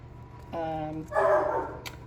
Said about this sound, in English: That's my dog barking at every neighbor that goes by.